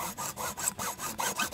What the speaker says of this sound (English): Here we go, sawing away.